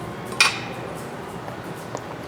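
A knife or metal utensil clinks once sharply against a plate while cutting an air-fried A5 wagyu steak, followed by quiet scraping and a small faint tap.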